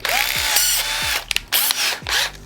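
Three short bursts of a power drill with a 9/64 drill bit spinning up and whining down, close and loud, with brief pauses between them, during a Nissan Titan car stereo install.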